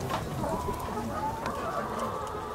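Chickens cluck and murmur in a poultry house on a small Ibaraki farm run as a self-sufficient, recycling household, a dense steady layer of overlapping bird calls at moderate level with no voices.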